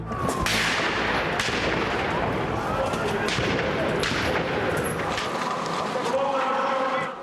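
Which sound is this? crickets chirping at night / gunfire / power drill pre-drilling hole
gunfire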